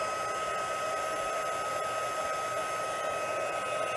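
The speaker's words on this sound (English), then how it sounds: "now pray that my heat tool starts up" A heat embossing tool runs steadily and close by, giving a continuous loud whirring blow of fan and hot air with no pauses and no voices.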